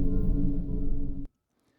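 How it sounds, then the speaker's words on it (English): Dense industrial factory drone from Logic's Abstract Atmosphere 67 sample, a loud sustained mechanical hum with layered tones that cuts off abruptly, leaving near silence. "industrial, some sort of factory kind of sound"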